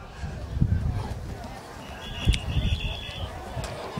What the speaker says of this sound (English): There's a whistle on the play.